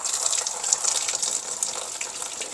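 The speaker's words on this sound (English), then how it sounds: "There will be some coolant that still comes out of this because there's some in the block." Coolant gushes steadily from a loosened lower radiator hose on a Ford Super Duty truck, a continuous close watery pour with no talking.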